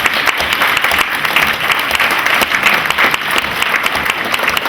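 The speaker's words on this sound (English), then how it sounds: "Let's give Marius a big round of applause." An audience at a STEM speaker series event applauds a speaker, producing steady, dense clapping from a full room that carries on evenly throughout.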